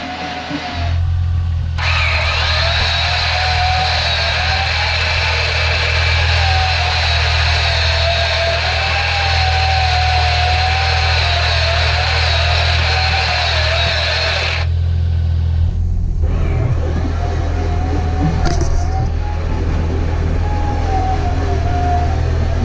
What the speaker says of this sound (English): Race car winch test,